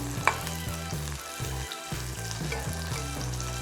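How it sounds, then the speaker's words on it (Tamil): Garlic fries in ordinary cooking oil with a dense, crackling sizzle, close and steady, broken by occasional stirring scrapes and small pops. "பூண்டு வறுக்கிறதுக்கு மட்டும் எண்ணெயை சேர்த்துக்கோங்க."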